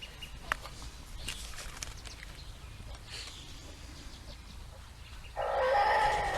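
Chickens clucking around chicken tractors in a garden, faint scattered clucks through quiet outdoor ambience, then a louder rooster crow near the end.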